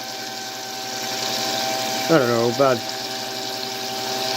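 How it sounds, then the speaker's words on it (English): Water runs steadily into a 5-gallon bucket, a continuous rushing pour heard close throughout, with a person briefly speaking over it partway through. "So what I'm doing now is filling up my first bucket"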